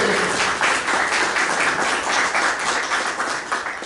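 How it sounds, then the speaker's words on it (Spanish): Audience at a book presentation for a professor gives a warm round of applause, dense continuous clapping from a seated crowd at steady loudness. "Un doble aplauso"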